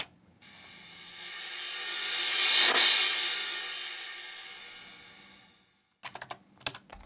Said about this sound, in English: we have a reverse crash